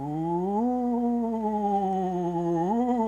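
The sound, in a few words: voice imitating a ghost's ooh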